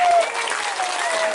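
Brief burst of dense audience applause at a school building opening and diamond jubilee ceremony, loud and continuous with a faint tonal whine of a sound system running through it.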